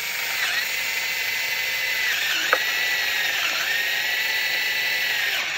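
Power drill boring a hole into pallet wood, a steady high whine held throughout with a brief sharp bite partway as the bit catches, close and alone.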